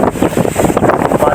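Strong wind over ripening rice fields buffets the microphone in a steady, loud, rough rush with no clear voices.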